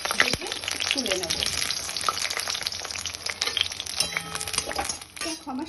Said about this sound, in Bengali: এবার বেগুনটা আমি ভেজে তুলে নেব।